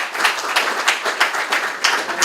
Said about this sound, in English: we give an applause for Sanherib.